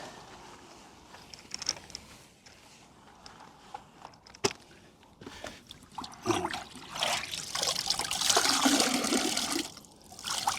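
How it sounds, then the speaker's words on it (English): Water drips and trickles steadily off a car during a rinseless wash, with scattered splashes and a swelling wash of runoff toward the end; no talking. "Yeah, like just dripping."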